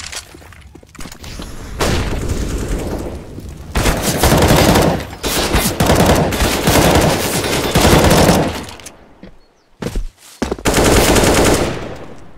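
Counter-Strike gameplay with loud bursts of automatic gunfire and rapid shots in several volleys, separated by brief near-silent gaps, with a sharp final burst near the end.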